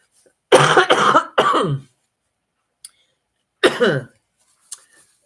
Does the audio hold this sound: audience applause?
no